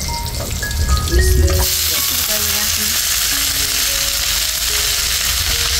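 Red amaranth greens being stir-fried in a pan, a loud continuous sizzle with stirring clatter that softens after the first second or two, no talking.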